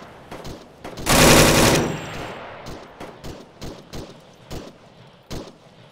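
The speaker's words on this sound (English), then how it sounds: "I'm putting suppressive fire down." Suppressive gunfire in the video game ArmA 3: a loud automatic burst lasting under a second, followed by a string of single sharp shots spaced apart, some nearer and some more distant.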